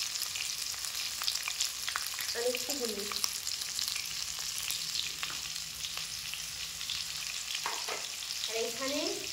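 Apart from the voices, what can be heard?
potatoes frying in a pan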